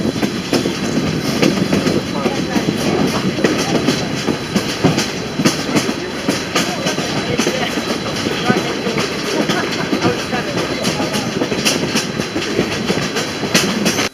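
Narrow-gauge Cumbres & Toltec train cars roll slowly on rails through a canyon under a slow order after heavy rain, making a steady, loud rumble with rhythmic clicking of wheels over rail joints throughout.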